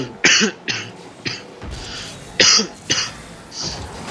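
Someone coughs in a run of short, harsh bursts, two clusters with brief pauses between, close to the microphone.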